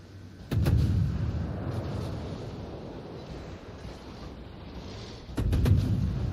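Naval shells fired in a warship video game played with a destroyer, two deep booming salvos about five seconds apart, each a loud thump followed by a long rumbling decay.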